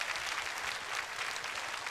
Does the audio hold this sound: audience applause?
yes